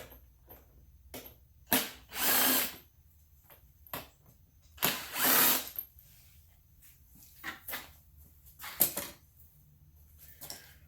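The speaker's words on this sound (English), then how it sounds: "Always good to have a little cordless impact." A cordless impact driver removes screws from a Ryobi inverter generator in short bursts: two longer whirring runs and several brief blips and clicks with quiet gaps between.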